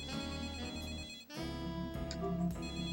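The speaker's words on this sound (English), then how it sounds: "Yes, the phone is ringing." A telephone rings in a detective video game, an electronic ringtone with steady repeating tones and a short break midway, moderately loud with no talk.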